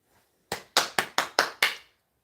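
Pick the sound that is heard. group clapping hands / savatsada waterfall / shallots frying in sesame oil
group clapping hands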